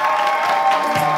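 A television studio audience cheers and applauds for Jimmy on a French presenter competition show, a short, loud burst of crowd noise with whoops and shouts.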